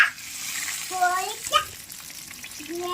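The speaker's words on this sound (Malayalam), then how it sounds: "അപ്പോൾ അത് ഏകദേശം നല്ല ഫ്രൈ ആയിട്ട് വന്നിട്ടുണ്ട്." Chicken pieces fry in hot oil for brosted chicken, making a steady close sizzle and bubbling, while voices speak over it at intervals.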